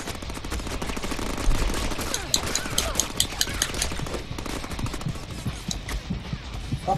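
Rapid gunfire bursts crackle through a Deadpool video game firefight, repeated volleys stacking over busy battle noise at close range.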